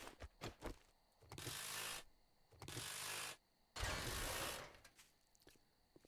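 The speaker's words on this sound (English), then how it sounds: "Let's wrench this while we do it." A ratchet wrench clicks in three long rapid bursts while working on a vehicle in a video game, separated by short pauses and preceded by a few single mechanical clicks, quiet overall.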